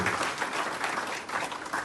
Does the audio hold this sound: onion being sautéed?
no